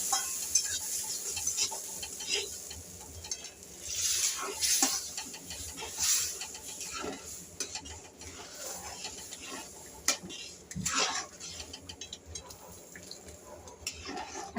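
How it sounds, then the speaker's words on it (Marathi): Semolina being stirred in a pan for jaggery sheera as hot boiled water is poured in little by little, giving an intermittent watery hiss and scraping clinks, moderately close, with no talk. "असं थोडं थोडं करून आपल्याला मिक्स करायचं आहे"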